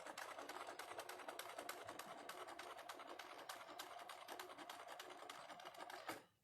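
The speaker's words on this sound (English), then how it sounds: "We're going to be sewing straight across." A sewing machine stitches straight across fabric in a rapid, steady mechanical rattle of needle strokes, close and even, stopping abruptly near the end.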